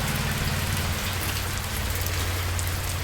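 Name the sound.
rain falling in a village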